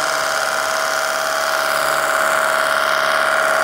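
A cordless car washer sprays foam onto a car, giving a steady, loud motorized whine with a hissing spray that runs unbroken from start to finish and has no talk over it.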